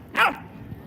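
A single short, sharp bark from a dog, close and loud, outdoors on courthouse steps, followed by quiet background.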